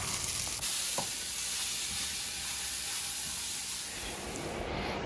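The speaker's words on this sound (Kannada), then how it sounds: "ಬಟ್ ಇದು ಬಂದು ಮೊಳಕೆ ಬಂದಿರೋದ್ರಿಂದ ಜಸ್ಟ್ ಹಾಗೆ ಒಗ್ಗರಣೆ ಹಾಕ್ತಾಯಿದ್ದೀನಿ." Sprouted lentils are tempered in hot oil, giving a steady close sizzle and hiss with a few small pops and no voices.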